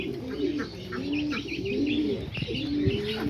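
Caged homing pigeons coo in repeated low, rolling calls close by, with a few higher chirps and faint rustling mixed in.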